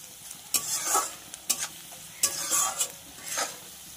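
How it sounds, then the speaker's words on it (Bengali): Onions browning in a pan for a fish curry, stirred in several scraping bursts over a soft, constant sizzle. "এই দেখো পেঁয়াজটা কিন্তু বেশ লাল লাল ভাজা হয়েছে"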